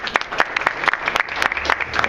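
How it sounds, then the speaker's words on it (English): Brief round of applause from guests at an Eid ul-Fitr reception at the US Embassy in London, a sparse smattering of distinct individual claps, close and fairly loud, ending quickly. "just give a quick round of applause, please?"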